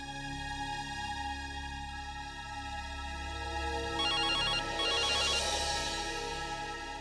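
An electronic mobile phone ringtone chimes in two short repeating bursts over a steady tonal background, fairly close and clear.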